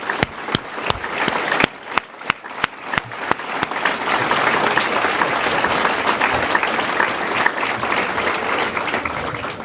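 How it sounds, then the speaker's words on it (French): Applause for municipal staff at a mayor's New Year ceremony in Seclin, starting with a few sharp, separate claps that swell into a full, continuous round from the audience. "si vous pouvez applaudir tous les agents municipaux qui ont travaillé à votre accueil."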